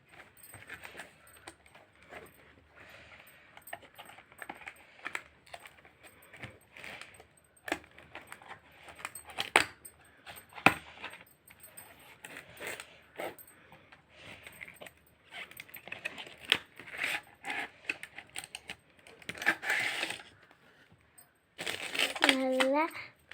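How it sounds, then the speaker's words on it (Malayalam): Lipstick packaging being unboxed close up, with crinkly rustling, tapping and small plastic clicks through most of the stretch, followed by a short sharp tearing burst near the end. "അപ്പോൾ നമുക്കിത് അൺബോക്സ് ചെയ്യാം."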